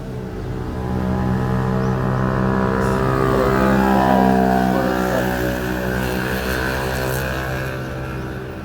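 A heavy engine rumbles steadily as a large tourist bus passes nearby on a road, growing louder toward the middle and fading slightly at the end.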